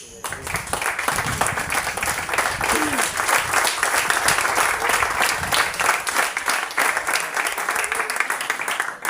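A church congregation claps loudly and continuously for several seconds, a dense, steady wash of many hands that drops off abruptly at the end.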